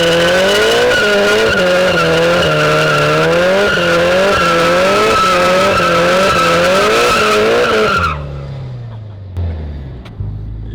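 A Toyota 86 TRD spins its tires in a loud, close burnout, with a steady engine roar and a sustained tire squeal lasting about eight seconds. The engine then drops to a low idle.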